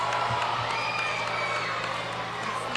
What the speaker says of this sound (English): Give him a round of applause, ladies and gents.